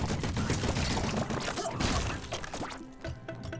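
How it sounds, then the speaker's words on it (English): Gunfire in the video game Voidigo: a rapid flurry of sharp, crunchy shots and impacts fills the first couple of seconds, then thins to scattered hits and ringing game effects. "I just got sniped from off screen"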